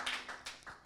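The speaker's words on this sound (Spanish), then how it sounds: "Dale un aplauso a Jesús." Clapping for Jesus during a Spanish-language church message about the Holy Spirit, heard as a few quiet, brief handclap bursts spaced irregularly, faint and without talk.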